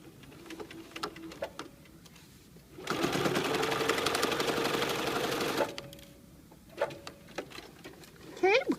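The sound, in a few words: sewing machine stitching a French fold binding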